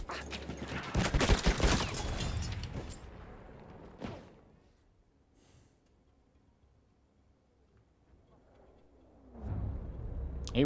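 Dense gunfire rattles close and loud in a Battlefield 1 match on the Sinai Desert map, a rapid burst that fades into quiet before another loud volley of shots at the end.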